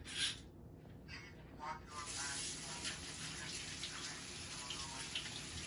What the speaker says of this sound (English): So everyone will wash their hands for 20 seconds.